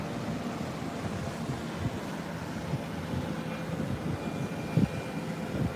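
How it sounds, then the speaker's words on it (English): A helicopter's steady, rumbling engine drone hangs overhead above a beach, continuous and moderately loud with a faint whooshing wind layer beneath it. "we got chopper in the air"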